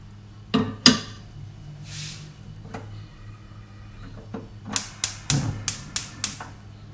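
Pot with cinnamon and star anise set down on a stove, heard as a few sharp metallic knocks early, then a rapid series of clanks and taps near the end, close and alone.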